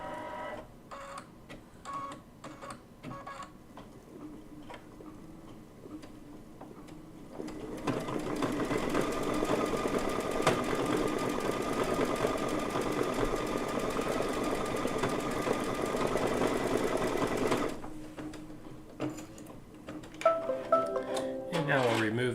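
An embroidery sewing machine stitches a flower appliqué onto a quilt block held in a hoop, a steady mechanical whir running about ten seconds in the middle, with quiet clicks and handling before and after.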